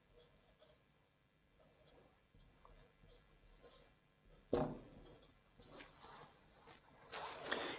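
Marker or chalk scratches across a board as notes are written during a physics lecture on atomic spectra. The strokes come in scattered scratchy bursts, with a louder stroke midway and another toward the end.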